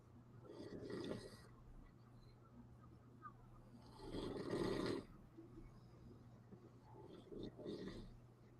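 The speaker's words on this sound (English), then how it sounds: "Who's snoring?" Snoring from a viewer during a Batman 1989 movie-night stream, rising in a few loud rasping swells over a steady low hum.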